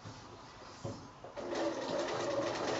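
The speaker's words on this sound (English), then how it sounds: "And then I'll go to the sewing machine and get that sewn" A quiet start gives way to a sewing machine stitching quilt block fabric in a steady, fast whir that continues to the end.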